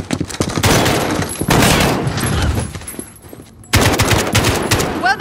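Rapid automatic gunfire from an ambush on guards in Call of Duty Modern Warfare, two long loud bursts separated by a short quiet gap, then another burst near the end.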